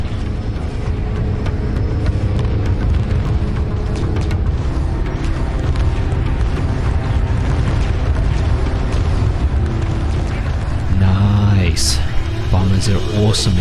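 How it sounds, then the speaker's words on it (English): Vaygr carrier exploding in space battle in Homeworld 2 Remastered, a dense sustained rumble of blasts and debris that swells near the end with sharper bursts, heard under continuous talk. "And there goes the Vaygr carrier. Beautiful. The Vaygr carrier has been destroyed."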